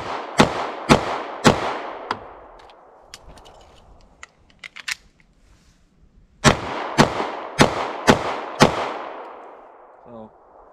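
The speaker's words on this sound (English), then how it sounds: "I'm just going to fire 5 rounds, drop the mag, and insert the other mag" Taurus G2C semi-automatic pistol firing a quick string of five sharp, loud shots, then a pause with clicks and handling of a magazine change, followed by another rapid string of five shots.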